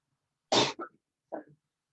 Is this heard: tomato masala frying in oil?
no